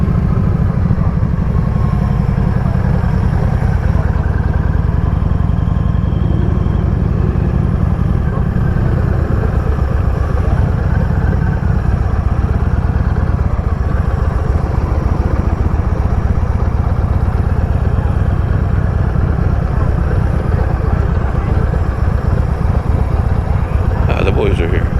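A large gathering of about 150 motorcycles at a bike meet, with a steady loud mix of idling and revving engines close by throughout, and people talking over the rumble.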